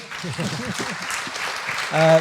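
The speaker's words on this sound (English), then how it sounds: "So if we can applaud Posy." An audience applauds at the close of a comics talk, a dense sustained patter of many hands with a few indistinct voices mixed in, ending in a brief louder tone.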